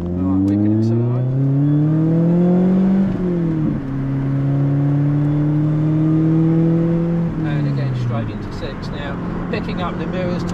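A Mini supercar accelerates hard on a Melbourne road, its engine note climbing through gears in loud rising sweeps with brief shift breaks, close and continuous, with a voice briefly heard.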